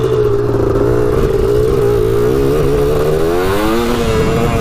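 A Honda TRX250R two-stroke ATV engine revs loud and close, its buzzing note rising and wavering steadily throughout without a break.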